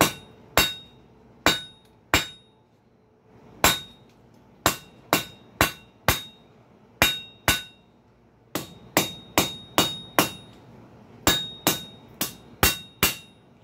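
Hammer strikes on steel at the edge of an anvil while forging a simple pintle hinge, sharp ringing blows in short bursts of two to five, each clang decaying with a metallic ring, loud and close with no talk.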